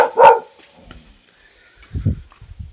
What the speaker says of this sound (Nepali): अब कुकुर पनि भुक्दैछ